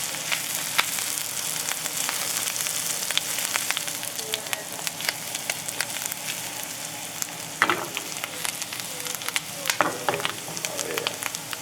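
Butter sizzles in a pan as morel mushrooms fry alongside deer steaks. The crackle holds steady, with a few louder pops and the odd scrape of stirring, and it stays close and clear with no talking.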